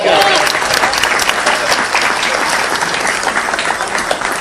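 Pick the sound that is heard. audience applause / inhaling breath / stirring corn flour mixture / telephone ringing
audience applause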